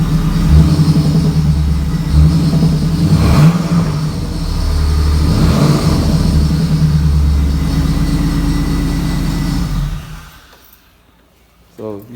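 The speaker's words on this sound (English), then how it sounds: "You can pat the gas a little bit." A 1998 Chevy Camaro's engine runs loud and close with a low, heavy rumble, swelling with a few gentle revs before dropping away near the end, while people talk over it.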